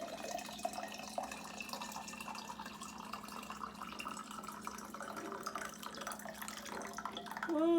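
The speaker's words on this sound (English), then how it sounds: "Now we're going to take the tea kettle and fill that back up because my water is still pretty warm." Water trickles and splashes into a tea kettle as it is refilled at a tap, a soft continuous pour that brightens slightly at the end, with no one talking.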